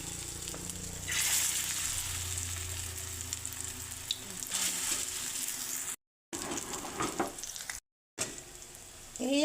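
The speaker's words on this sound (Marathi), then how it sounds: "आता ह्याच प्रकारे मी दुसरे टिक्के ह्याच्यामध्ये घालून घेते." Chicken tikka kababs frying on a tawa over medium heat, a steady close sizzle that continues throughout with a few brief breaks and occasional handling sounds.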